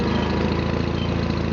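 A John Deere 318 lawn tractor engine idles steadily up close, a loud, even mechanical rumble with a regular pulsing beat and no break.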